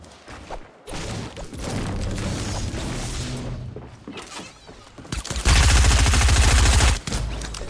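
SMG gunfire in Fortnite Battle Royale, loud and close: dense shooting and game noise build to a sustained, roaring rapid burst near the end, then break off.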